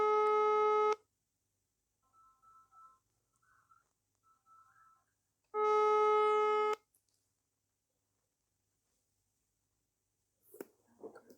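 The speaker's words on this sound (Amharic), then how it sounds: "አዎ አይነሳም ስልክ።" An unanswered phone call rings out: two loud electronic ringback tones about five seconds apart, separated by near silence with faint chirps, and a few soft noises near the end.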